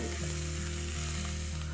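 Onions for saffron chicken biryani fry in hot oil with a constant close sizzle, joined by faint stirring, a steady crackling wash with no voices.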